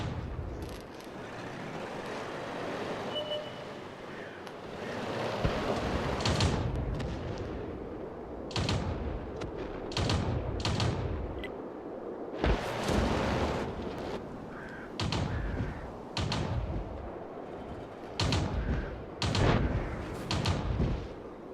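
Tank cannon shots boom repeatedly in World of Tanks, heavy broadband blasts spaced every second or two over a low rumbling battlefield bed, loud and close with sharp attacks and rolling decays.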